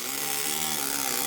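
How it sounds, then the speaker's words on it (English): A pneumatic hammer and chisel carving stone in an Italian studio gives a steady, dense rattling hiss, loud and close, with no pauses. "I'm using a pneumatic hammer and chisel system"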